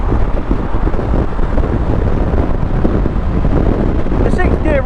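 Heavy wind buffeting rushes and roars over a low engine drone while riding a Honda CB500X motorcycle, loud and continuous as if moving at speed, with a brief higher whine near the end.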